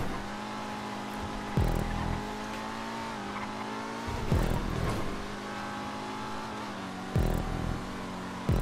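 A car engine drones and revs steadily in Grand Theft Auto Online, pitch rising and falling with gear shifts and a few sharp bursts, close and continuous with no talking.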